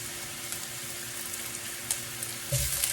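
Chopped garlic sizzles steadily in olive oil in a pan, a constant close crackling hiss with a brief louder burst of sizzle near the end.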